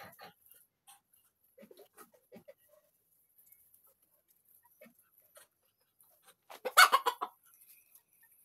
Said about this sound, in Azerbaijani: Ördəklər cütləşir.